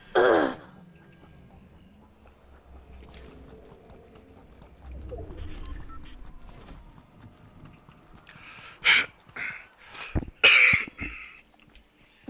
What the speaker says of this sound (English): The way your character stops to cough.